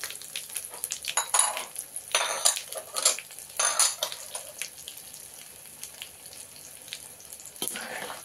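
Chana dal and urad dal frying in a pan for lemon rice, with bursts of crackling sizzle and scraping utensil strokes against the pan, loud at first and then easing to a quieter steady sizzle.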